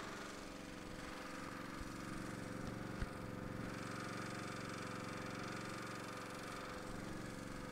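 A 2002 LeeBoy L150 pavement sealer machine runs its engine steadily while recirculating solvent from the bottom of the tank back to the top, a continuous mid-pitched engine drone with a faint knock near the middle and no talking.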